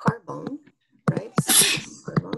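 A single loud, close sneeze bursts out between a lecturer's spoken phrases during a biology class.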